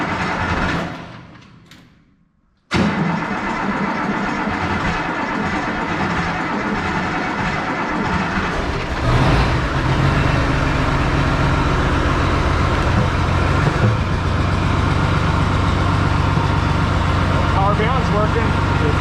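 An Oliver tractor engine cranks and catches after a brief silence, then runs loud and steady close by, a constant rumble that holds to the end while people talk.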